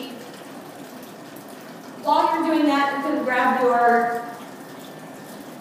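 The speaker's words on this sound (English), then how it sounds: "Then you will drain that cleaner" Cleaner drains from a coffee urn in a steady liquid gush lasting about two seconds, heard under a person talking.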